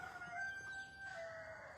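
Faint chicken sounds, a soft drawn-out call from a hen over steady background hum, distant and quiet.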